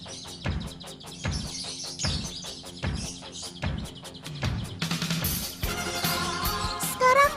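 Lovebirds chirp in rapid, steady repeated calls, close and bright, building into a denser burst of higher twittering toward the end, with no talk.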